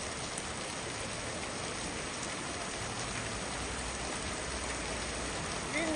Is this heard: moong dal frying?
no